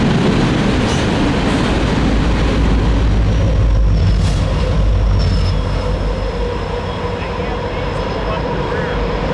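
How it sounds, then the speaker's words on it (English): An eastbound loaded coal drag freight train led by two GE locomotives grinds up grade on the NS Pitt Line. Heavy low rumbling and clattering wagons continue throughout, with faint wheel squeals rising above the steady roar. "an eastbound loaded drag can be heard grinding up grade 40 minutes later with 2 more GEs at the helm"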